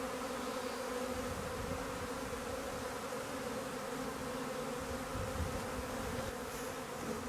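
A dense honeybee swarm hanging heavy enough to bend a branch buzzes in a continuous, even drone, moderately loud and close, with no talk.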